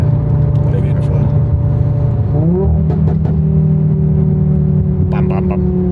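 A five-cylinder car accelerates hard with a steady engine drone rising in pitch, and sharp exhaust pops and crackles break through. People talk over the engine noise inside the cabin.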